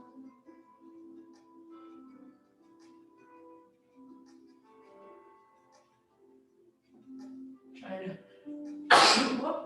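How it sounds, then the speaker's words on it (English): Someone hums or talks softly in a low voice, then a short sharp sneeze bursts out near the end, loud and close. "Trying to hold that back a sneeze, but it came out anyway."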